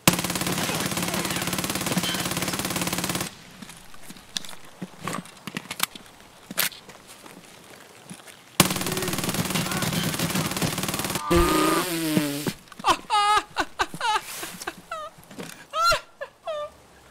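Gunfire in the shooter game Escape From Tarkov: loud sustained bursts of automatic fire in two long stretches, broken by quieter gaps with scattered sharp shots and short whooshing effects.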